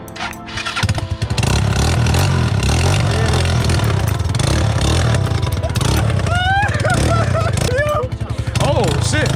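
A 2020 Bashan Storm 250 motorcycle engine catches and fires up, then roars loudly with revving bursts close by, while people talk and shout excitedly over it.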